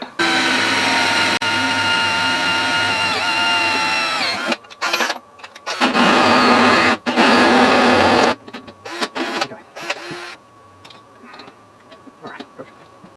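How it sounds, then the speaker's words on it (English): Power drill boring through a go-kart steering wheel to fit a kill switch: loud, steady high-pitched whirring bursts, one long then two shorter runs, followed by quieter clicks and handling noises. "which I'm going to drill in and put in the steering wheel here"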